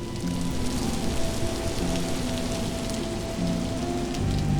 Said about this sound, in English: And the rain is definitely helping.